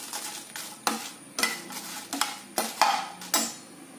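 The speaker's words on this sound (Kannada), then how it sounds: "ಈಗ ಮೆಣಸು ಹಾಕುವ ಫ್ರೈ ಮಾಡಲಿಕ್ಕೆ" Coriander seeds and chillies fry in oil in a pan alongside cumin, with a soft continuous sizzle broken by repeated sharp scrapes and stirs of a metal spoon, close by.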